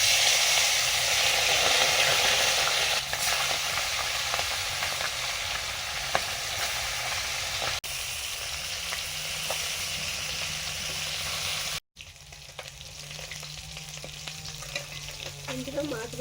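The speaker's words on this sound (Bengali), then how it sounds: "মাছ ভাজা হয়ে গেছে" Fish fries in a hot pan with a continuous, close sizzle and hiss that fills the whole stretch, briefly dropping out once before the sputtering resumes.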